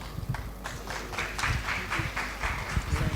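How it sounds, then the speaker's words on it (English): Audience applause at a women's journalism conference, a steady wash of many hands clapping at moderate volume through the whole stretch, with some low rumble underneath. "Please, again, another round of applause."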